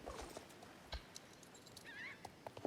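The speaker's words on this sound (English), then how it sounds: "That's a Gotlands horse." Faint hoof clip-clops and a short neigh from a Gotland pony in Star Stable Online, quiet and sporadic against low background ambience.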